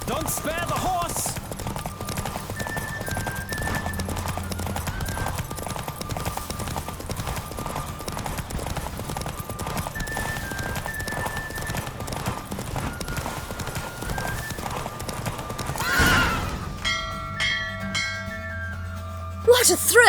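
Rapid hoofbeats of a galloping horse in a race in The Witcher 3: Wild Hunt drum steadily under music and shouting, ending with a sharp burst of noise and a brief whinny.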